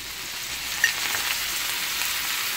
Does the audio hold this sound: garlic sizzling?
yes